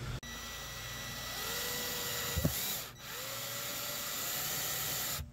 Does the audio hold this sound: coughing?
no